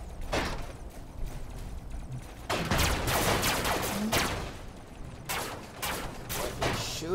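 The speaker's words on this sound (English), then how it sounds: "watch what happens when I shoot" Video game gunfire in bursts of rapid automatic shots, separated by short lulls, loud and close with mechanical clatter between volleys.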